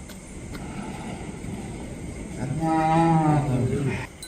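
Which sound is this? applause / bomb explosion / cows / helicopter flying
cows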